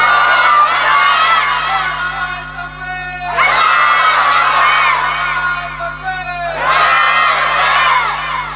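A large crowd at a Bengali religious sermon shouts takbir together in unison: three loud, sustained group chants, each lasting a couple of seconds with short pauses between, over a steady electrical hum.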